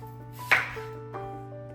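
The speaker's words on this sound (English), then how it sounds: "So what I'm doing right now is chopping up the apples." A single sharp knife chop through a Honeycrisp apple on a cutting board, followed by a softer second cut, close and quiet otherwise.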